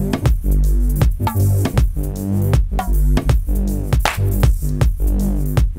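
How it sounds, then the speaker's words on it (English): A deep synth bass chopped into rhythmic pulses by a flipped Ableton gate keyed from the drums, cutting in and out between punchy drum hits in a steady pumping groove. "the bass will now only happen when the drums aren't happening"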